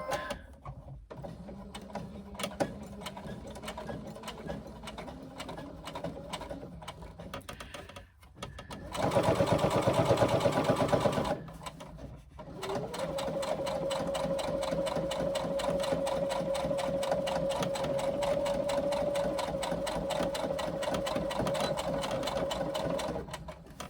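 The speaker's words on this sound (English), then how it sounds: "I'm just going to do the stitch in the ditch where I stitch right down that center seam" Steady whirring and rapid mechanical ticking of a sewing machine stitching down the center seam of a hobo shoulder bag, with brief pauses and a short louder burst of running midway.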